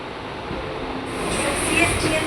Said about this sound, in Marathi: निघाली मित्रांनो, कर्जत लोकल निघाली